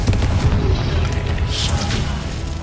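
A Confringo fire spell in the Hogwarts Legacy video game goes off as a deep, booming blast. The rumble rolls on and fades over a couple of seconds, with a brighter burst partway through.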